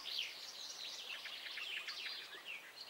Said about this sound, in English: I do hear the birds now.